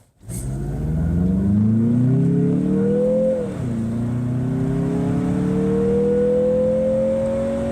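A Mazda CX-50 Meridian Edition crossover accelerating hard from a standstill to 60 mph, engine droning loudly upward in pitch, a brief dip at the gear change, then climbing steadily again.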